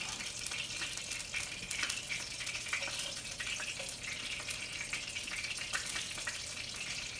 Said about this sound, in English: So I'm going to go ahead and add our garlic that we sliced up a few minutes ago